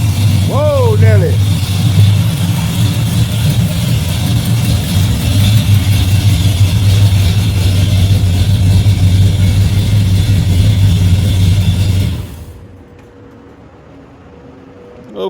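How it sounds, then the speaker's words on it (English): A rebuilt Holley carburetor on a Chevy engine idles loud and close in a steady low rumble, with a brief vocal whoop near the start, then cuts out toward the end. "We got an idling Chevy."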